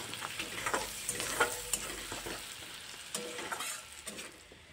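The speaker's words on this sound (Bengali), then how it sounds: "একটু নাড়িয়ে চাড়িয়ে ভেজে নেব" Chopped onion, garlic and green chillies with salt and turmeric being stir-fried in a pan, a soft continuous sizzle with occasional scraping stirs, fairly quiet and close.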